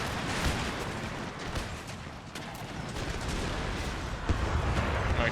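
Dense battle din in a war strategy video game set with Netherlands forces at a river crossing: continuous overlapping musket volleys and booming artillery fire crackle and rumble without pause.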